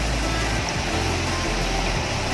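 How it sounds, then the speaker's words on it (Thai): Waterfall at an ancient pond in Surin, Thailand, a constant broadband rush of falling water with a low rumble underneath, loud and steady throughout, no voices. "อ่าตรงนี้ก็จะเป็นน้ำตกแล้วนะคะเนี่ย"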